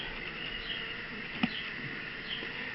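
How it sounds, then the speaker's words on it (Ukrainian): Steady, close insect buzzing fills the clip, a dense hum of many honeybees in an opened hive, with one brief sharp click partway through and no voices. "Ось я показую бджоли. Ось вони."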